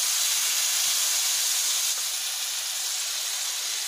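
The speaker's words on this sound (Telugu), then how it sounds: "చింతపండు రసం వేసుకోవాలి." Tamarind juice poured into a hot oil tempering for sesame pulihora sets off a loud, steady hiss of sizzling. The sizzle holds at an even level for several seconds and eases only slightly partway through.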